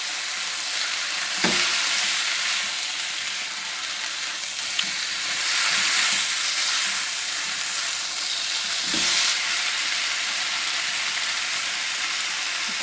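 Shrimp and eggplant stir-frying in a pan, a steady bright sizzle with occasional louder crackles and scraping turns as the pieces are tossed, close and continuous with no talking.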